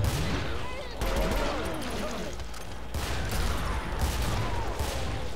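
Gunfire from an overpowered gun in the co-op video game Killing Floor, Hellride mode: rapid irregular shots running through the whole stretch, loud and close, with game noise and some voices under them.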